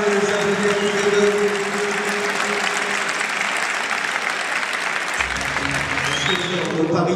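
An audience at a boxing event applauds both fighters after their bout, a dense, loud wash of clapping that holds steady across the hall, with some crowd noise and talk over it.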